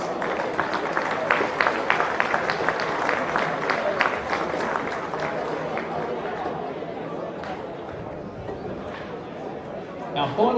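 Crowd applause and cheering for the 18 Boys plate winners at a national youth championships presentation, steady clapping mixed with chatter across the clip, easing slightly toward the end.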